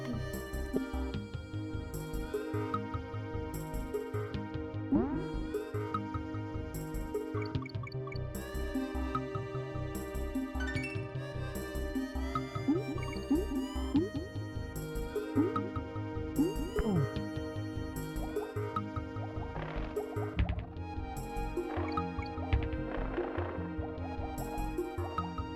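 Donkey Kong Country video game level music, a steady, busy tune with layered melody and bass that plays alone throughout without pause.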